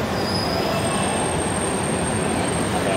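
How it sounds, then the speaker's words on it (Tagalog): An LRT-2 train at Marikina-Pasig station in Marikina City rolls close by with loud, continuous wheel rumble and a high steady squeal throughout, no voices. "sasakay na tayo ng wagon, train dito sa LRT Marikina Pasig Station"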